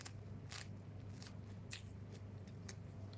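Several sharp, crisp crunches of a snack being chewed, coming in irregular bursts close to the mic over a low steady hum.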